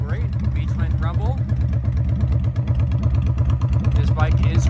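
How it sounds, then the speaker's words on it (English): A 2007 Honda Shadow 750 Spirit V-twin motorcycle with a Cobra aftermarket exhaust idles with a steady, pulsing low rumble while a person talks over it. "sounds great, V-twin rumble."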